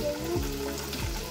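Paneer sizzles and crackles in hot oil in a pan, a steady close frying hiss with occasional soft bursts and no talking.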